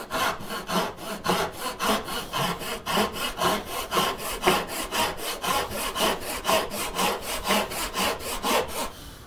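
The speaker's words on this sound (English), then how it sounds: "I'm just going to focus on keeping the saw vertical." A hand saw rips through wood in a vise gap while cutting a dovetail for a flower box, making steady rhythmic rasping strokes at about three per second. The sawing is close and fairly loud, with no talk.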